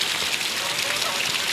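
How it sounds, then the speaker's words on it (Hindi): Steady rainfall in Jharsuguda district during a thunderstorm, a dense broadband hiss of drops pattering on surfaces, continuous and fairly loud with no break across the short stretch. "वर्षा देख"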